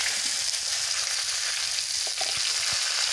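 Eggplant, potato and carrot fry in hot oil, giving a steady, even hiss of sizzling with a few faint knocks near the end, moderately quiet and with no talk.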